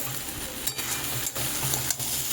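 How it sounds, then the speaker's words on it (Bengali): Soybean chunks and potato sautéing in a pan over a raised gas flame, giving a dense, steady sizzle close by with a few soft stirring scrapes over a short stretch. "গ্যাসের আঁচটাকেও আমি বাড়িয়ে কষাচ্ছি দেখুন খুব ভালোভাবে সয়াবিন আলুটা কষে গেছে"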